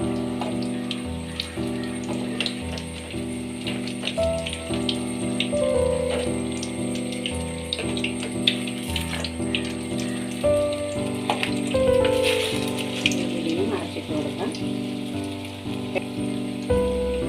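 Banana fritters (pazham pori) frying in hot oil, a continuous crackling sizzle with scattered pops, fairly close and steady throughout, beneath a tonal background.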